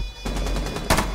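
Rapid video game gunfire shot out through a window: a quick burst of repeated sharp shots, loud and close, ending with a heavier crack, no speech.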